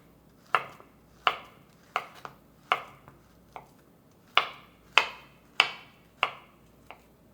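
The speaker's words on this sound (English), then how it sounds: "I'm gonna start by cutting up a couple bananas." A knife slices bananas on a cutting board, about a dozen crisp, evenly spaced chops in a steady rhythm, close and clear with no talking.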